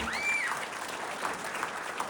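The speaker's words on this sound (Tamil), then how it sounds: "உங்கள் மண்டபம் நிறைந்த கரகோஷங்கள் இந்த இரண்டு பாட்டுக்காரர்களுக்கு" A hall audience applauds two singers, a steady dense clapping that stays even throughout, with a faint whistle near the start.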